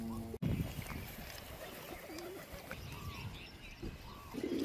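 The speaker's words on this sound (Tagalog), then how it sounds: "Papakain si Meti ng mga kalapate." Pigeons cooing softly while being fed outdoors at a cemetery. Faint low coos sound over steady background noise and rustle, with a sharp click near the start.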